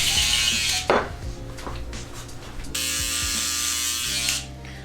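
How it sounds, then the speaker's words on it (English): An electric hair clipper removes bulk during a bald fade, its steady buzzing motor running loud and close through most of the stretch, briefly dipping and shifting pitch midway as the blade moves over the head. "So with the clipper, we're just getting that bulk out of there."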